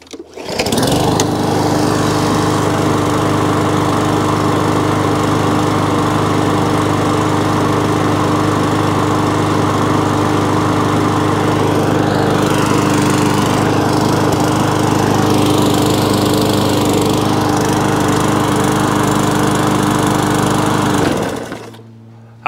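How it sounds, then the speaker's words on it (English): A lawn mower powered by a Briggs E-Series engine runs steadily for about twenty seconds. Its close, loud drone shifts slightly midway, then the engine cuts off at the end. "It's got a nice little Briggs E-Series engine"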